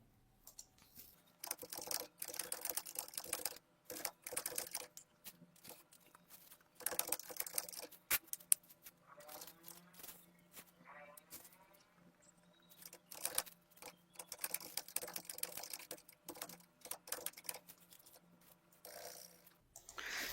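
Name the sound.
typing on a computer keyboard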